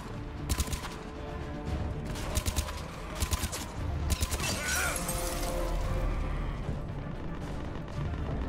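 Turret fire in Mass Effect 3 rattles in quick bursts of sharp, clustered shots over a dense, noisy battle bed, with mechanical clatter mixed in.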